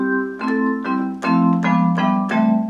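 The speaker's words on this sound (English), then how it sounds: "Number 3, they put the vibes on it, or 4 rather." Vibraphone voice on a Roland digital accordion: five ringing mallet-like chords struck about every half second, bright and close, each with a short shimmering decay.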